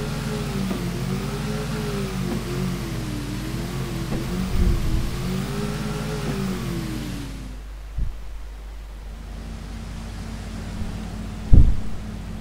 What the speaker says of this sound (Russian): Я на нем уже катался, на этом катере.